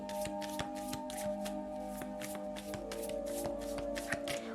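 Tarot cards shuffled in quick, rhythmic repeated riffles, each a crisp fluttering burst, close and clear over a faint steady hum.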